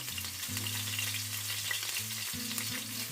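Fish crackles and sizzles steadily in a hot pan, close and continuous, with a low electrical hum underneath and no talking.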